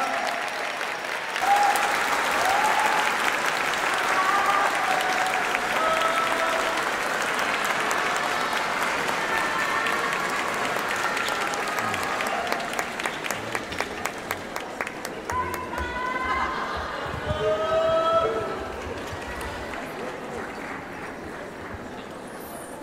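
A large audience gives sustained, loud applause to welcome a speaker to the stage, a thick continuous roar of clapping with a few sharper claps near the end before it thins out, with faint voices underneath.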